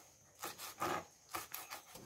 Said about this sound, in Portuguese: Tô cortando aqui umas palhinhas de cebola.